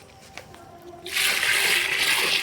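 Water poured in a sudden strong rush after about a second of quiet, a steady broad splashing stream that continues loudly to the end.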